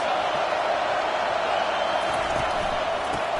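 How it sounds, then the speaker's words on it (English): Hostile football stadium crowd roaring loudly against the opposing offense, a dense continuous wall of noise filling the whole stretch without letup. "This crowd trying to make life miserable for this offense."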